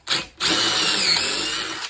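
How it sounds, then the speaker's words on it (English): A power drill bores a pocket hole into wood through a Kreg jig: a short whir, a brief pause, then a sustained high whine of the bit cutting that stops abruptly, loud and close, without talk. "drill a hole"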